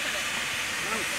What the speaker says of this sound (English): this is the engine pulling the train down here to Lydney Junction.